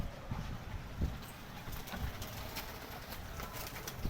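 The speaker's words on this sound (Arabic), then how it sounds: "الحمام هيطلع قدامكم اهو يا جماعه" Domestic pigeons coo as they come out of their loft on a hot day, with soft cooing and occasional wing flaps set against a steady, noisy background.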